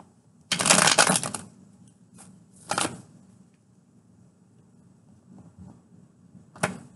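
Tarot cards are shuffled up close, with one long riffling burst followed by shorter flicks and taps separated by quiet gaps.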